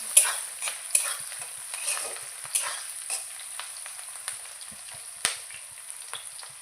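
Chicken pieces frying in a pan, a continuous hiss of hot oil with irregular scraping and clinking as the meat is stirred, close and moderately loud.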